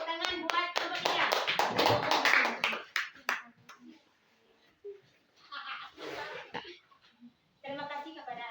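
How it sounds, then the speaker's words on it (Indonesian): Classroom applause for a student group, a quick flurry of many small hands clapping mixed with children's voices, followed by quieter gaps and more talking. "Tepuk tangan buat kelompok 3."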